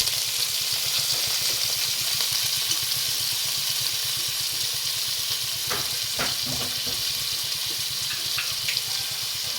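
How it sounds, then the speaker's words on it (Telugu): Thinly chopped onions fry in hot oil, giving a continuous hissing sizzle with a few sharper crackles near the end, moderately loud and with no voices. "ఆయిల్ ఎలాగో వేడిగా ఉంది కాబట్టి ఆనియన్స్ అన్నమాట, ఉల్లిపాయ ముక్కలు, మనం సన్నగా తరిగిన ఉల్లిపాయ ముక్కలు వేసుకోవాలి"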